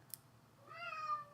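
A cat named Fry lets out one drawn-out meow, fairly close and rising, after a small click, with no talk over it.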